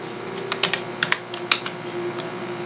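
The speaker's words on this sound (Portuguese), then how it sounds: "Na palavra consagrada, eu vou digitar só consa." Someone types on a computer keyboard in a word processor, a short burst of light, irregular key clicks over a steady background hum.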